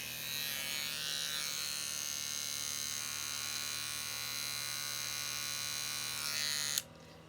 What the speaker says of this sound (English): I got this electric razor for Christmas, so I can probably shave off my unibrow a little bit.